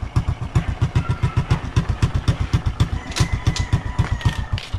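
A motorcycle engine idles close by, a steady rapid chugging pulse with a rattly clatter, running continuously without pause.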